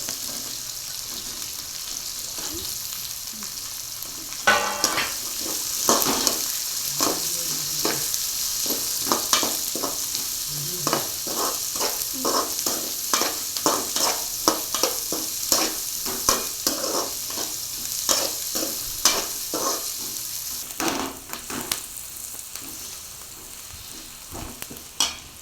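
Onion and green chillies sautéing in a pan make a loud, continuous sizzle with rapid, repeated spatula scrapes and stirs through most of the stretch, no voices.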